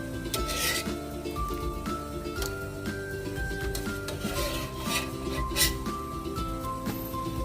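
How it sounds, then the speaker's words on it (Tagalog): Boiled tomatoes are crushed and stirred in a pot for sinigang, a continuous scraping and squishing with occasional sharper clanks of utensil against metal, steady and close throughout. "Dudurugin natin yung ating kamatis."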